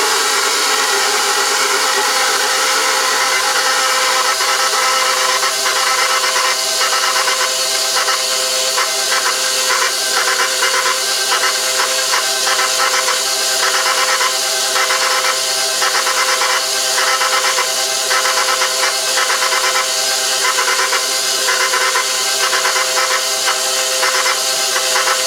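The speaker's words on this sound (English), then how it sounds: "on a KitchenAid mixer, it's on speed 2." A KitchenAid stand mixer runs on speed 2, kneading a gluten-free, yeast-free, egg-free multi-grain bread dough, giving a steady motor whir with a hissing edge and faint rhythmic pulsing for the whole stretch, alone and without talk.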